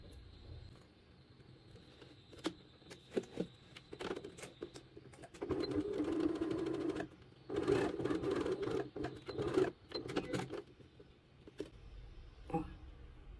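A sewing machine runs a straight seam along the hem of tailored trousers in short bursts, with quiet pauses and handling clicks between runs.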